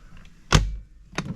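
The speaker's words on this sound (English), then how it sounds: "Slide out drawer, some basic stuff in there." A slide-out drawer in a caravan is pulled open with a single close, sharp thud, followed by a fainter knock about half a second later.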